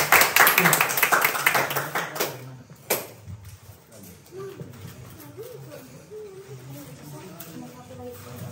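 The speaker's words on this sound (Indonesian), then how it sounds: "Tepuk tangan buat kelompok 2." A group in a classroom-style session claps for group 2 after a drama performance, a loud burst of hand claps for about three seconds that stops abruptly, followed by quieter room noise and some talking.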